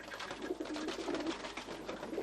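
Pigeons coo steadily and close by in a stock loft of racing cocks, soft overlapping bubbling calls running continuously without any talk.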